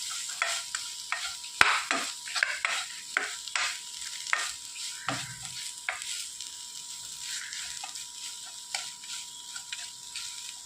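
Grated coconut is stirred into breadfruit thoran in a pan, with repeated close spoon scrapes and knocks in an uneven rhythm over a light sizzle, and no voices.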